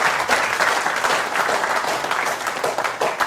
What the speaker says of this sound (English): So I'd like you to give an applause so that we give a proper send-off to KFreeBSD.